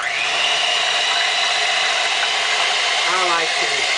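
An electric mixer beats a macaroni and cheese mixture until frothy, producing a loud, close, continuous motor whir, with a brief voice-like sound near the end.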